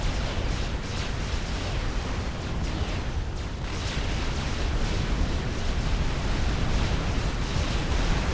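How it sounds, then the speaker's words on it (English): Scathis artillery fires a volley in the strategy game Supreme Commander: Forged Alliance, a loud, continuous rumbling roar of heavy blasts that runs unbroken from start to finish. "the Scathis is firing a volley"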